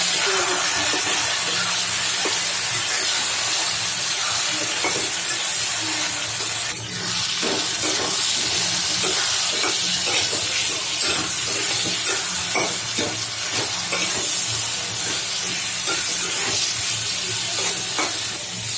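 Taro greens tipped into hot oil with cooked onion and garlic, a loud continuous frying hiss and crackle with steady stirring scrapes throughout, close and dense, no voices.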